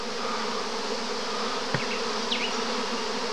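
A small swarm of honeybees buzzing outdoors in April, a dense, steady drone with a few individual bees passing closer, no voices.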